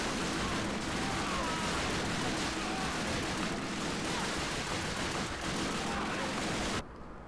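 Continuous dense gunfire and explosions in the World War II video game Call of Duty: Finest Hour on PS2 form a steady, loud wall of battle noise that cuts off abruptly near the end.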